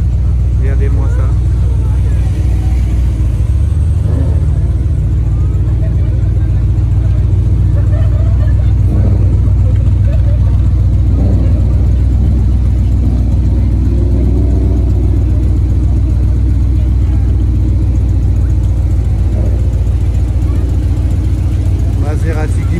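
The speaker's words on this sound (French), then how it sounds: "Maserati Ghibli, les amis." Maserati Ghibli engine idling nearby with a steady low rumble throughout, people talking over it.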